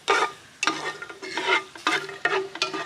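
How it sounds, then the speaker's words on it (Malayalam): Cashew nuts fry in hot oil in a pan while being stirred for kappa biriyani. Steady sizzling runs underneath, and a spoon scrapes the pan in rhythmic bursts, close up and fairly loud. There is no talking. "അപ്പൊ നമ്മുടെ അണ്ടിപ്പരിപ്പ് മൂത്തതിലേക്ക് തന്നെ മൂത്ത് വരും കേട്ടോ."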